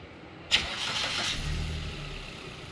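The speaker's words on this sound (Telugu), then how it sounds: "సార్ బండి అనేది స్టార్ట్ చేసి చూపిస్తున్నా" A 2018 Maruti Baleno's engine cranks and catches with a sharp starter burst, then settles into a quiet, smooth idle that stays low and steady, recorded close by.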